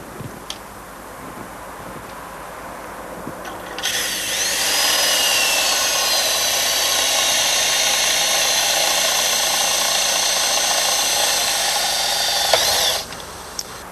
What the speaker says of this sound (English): continue cutting the rest of the way through the end plate until it stops on this stop collar